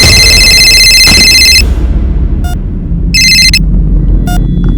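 A phone rings in repeated electronic bursts over a loud, steady background rumble, with short pauses between the rings.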